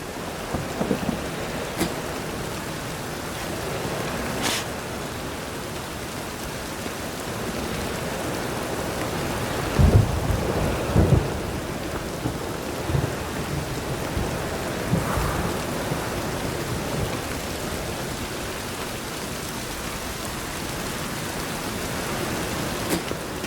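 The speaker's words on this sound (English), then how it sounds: "A storm, damn it." In The Witcher 3 video game, a thunderstorm brings steady heavy rain with deep rumbles of thunder rolling in repeatedly, the strongest claps near the middle, and no voices over the downpour.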